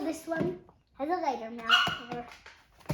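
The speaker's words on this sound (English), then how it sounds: "Stop barking." A young dog barks a few times close by while a person and someone talk over and around the barks.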